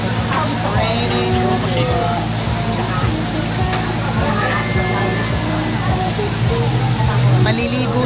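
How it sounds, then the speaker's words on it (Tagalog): Heavy rain pours down steadily in a continuous loud hiss, with voices talking faintly beneath the downpour. "So it started raining very hard."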